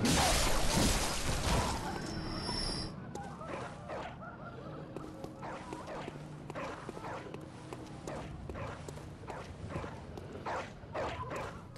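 Several dogs bark and yip repeatedly in the Bloodborne video game, a busy clattering chorus of barks over a dense background of game noise and footsteps.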